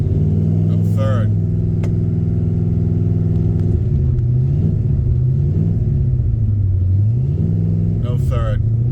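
A 1972 Pontiac LeMans engine revs hard during drag racing, a loud sustained roar whose pitch climbs, drops at gear changes and surges again, with a voice talking over it.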